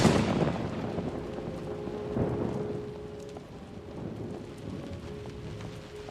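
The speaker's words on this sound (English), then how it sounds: "I love heavy rain." Heavy rain pours steadily in the video game Close to the Sun, a dense wash of sound with a thunder-like rumble at the start that fades to a constant hiss.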